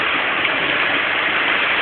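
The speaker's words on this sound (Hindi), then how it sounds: "वो इतनी तेज बारिश" Heavy rain pours in a dense, steady hiss that stays constant and fills the whole short stretch, with no voices.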